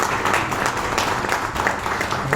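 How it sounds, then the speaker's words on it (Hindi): Audience applause fills a live seminar hall, a steady dense wash of clapping from a crowd, loud and continuous throughout without any clear voice over it. "एक बार अपने आप के लिए जोरदार तालियां बजाएं"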